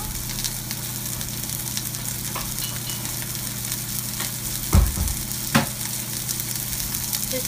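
A burger made from sweet potato flour fries in a pan, left untouched on one side, giving a steady, even sizzle throughout, with a couple of brief soft knocks near the end.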